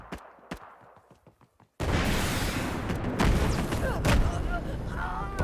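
Pistol shots in a video game, a few sharp isolated cracks at first, then dense overlapping gunfire and booms in a loud, busy firefight.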